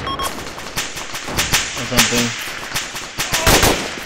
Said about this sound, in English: I think we got an MG up there somewhere.